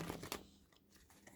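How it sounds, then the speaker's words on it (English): Tarot cards shuffled by hand in a few quick riffled bursts, soft and close, fading to quiet rustling with a small flick near the end. "One more shuffle."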